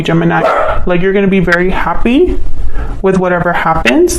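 A dog barks repeatedly in the background in short bursts and yips, running through most of the moment beneath a person talking close by.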